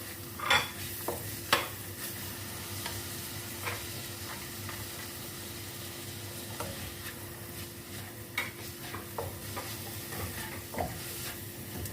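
Onion, capsicum and carrot sautéing in a pan, a quiet steady sizzle with scattered scraping stirs and spatula taps across the whole stretch, no talk.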